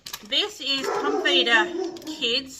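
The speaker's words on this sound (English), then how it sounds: "Sorry, that's my dog." A pet dog barks and yips in a home, several short, sharp barks scattered through the moment while a person talks over them.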